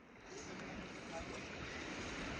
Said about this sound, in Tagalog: Uy, ang lakas na alon.